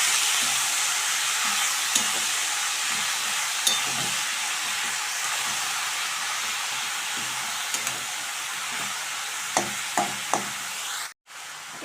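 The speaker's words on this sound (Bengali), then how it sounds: "লাউটা দিয়ে দিলাম, একটু নেড়ে দেবো।" Chopped home-grown bottle gourd fries with mutton fat in a steady, close sizzle, while a spoon scrapes and taps the pan at intervals, ending in a short silent gap and no talking.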